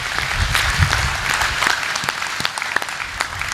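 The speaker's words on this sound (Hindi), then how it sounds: "एक बार जोरदार ताली बजाइए" Burst of audience applause at a Hindi poetry recital, many hands clapping together in a dense, steady patter that carries on throughout, fairly loud and with no speech over it.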